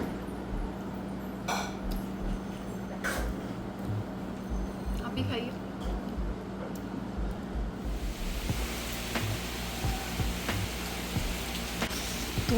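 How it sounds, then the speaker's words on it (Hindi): Rain falls on a day when the sun is out, making a steady, soft hiss that swells noticeably louder and denser partway through, with no voices over it. "धूप भी निकल रही है, बारिश भी हो रही है।"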